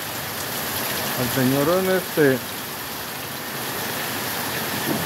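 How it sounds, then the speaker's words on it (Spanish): Heavy rain pours steadily as a dense, even hiss, with a voice speaking briefly over it partway through. "mira qué bonito está lloviendo"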